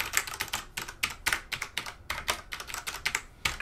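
Keys on a Rosewill illuminated mechanical gaming keyboard with Cherry MX Brown switches are pressed in a quick, uneven run of crisp clacks, close and fairly loud, with no talking.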